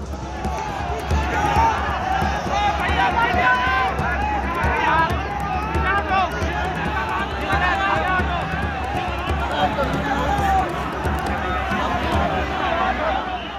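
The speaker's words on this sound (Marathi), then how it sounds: "एकमेकांना ढकलत रामललाच्या दर्शनासाठी पुढे जाण्याची जणू स्पर्धाच लागलीये" Devotees crowd and push toward the Ram temple in Ayodhya, a dense, close hubbub of many voices and shuffling feet that runs continuously.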